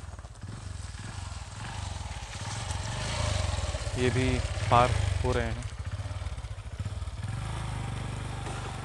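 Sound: motorbike riding past

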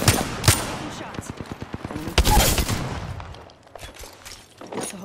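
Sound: gunshots in the video game Apex Legends

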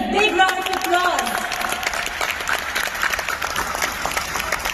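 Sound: applause

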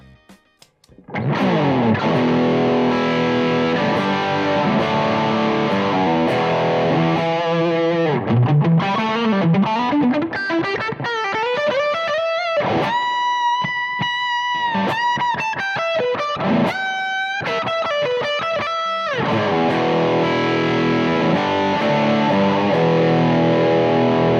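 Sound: distorted electric guitar with humbucker pickup

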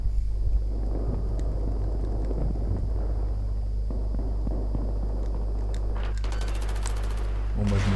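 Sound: gunfire and explosions in Battlefield 3 video game

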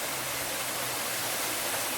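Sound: man-made waterfall at cave temple

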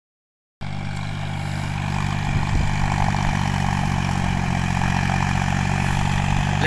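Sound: John Deere 5050D 4WD tractor engine running

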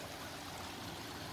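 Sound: spring water flowing down through a pipe

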